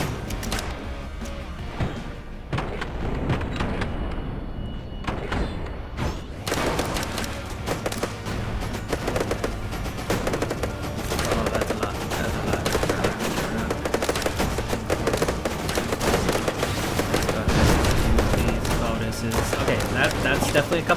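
Rapid bursts of mounted gunfire hammer away at towers and vehicles in an outpost defense video game, dense and loud over a rumbling background for the whole stretch.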